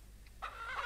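Chickens clucking on a ranch in Ranch Simulator, several soft, brief clucks rising over a low steady hum, moderately close and fairly quiet, with no talk.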